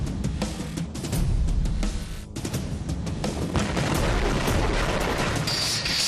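Heavy fusillade from a TOS-1 thermobaric rocket launcher in a war zone, a dense roll of overlapping booms and blasts that runs for several seconds, loud and continuous with no voices.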